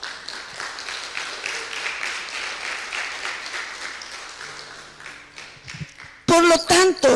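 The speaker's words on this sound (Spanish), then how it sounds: "¿Cuánto le dan un aplauso al Señor?" Church congregation applause, a scattered burst of clapping that thins out, followed by a voice speaking loudly near the end.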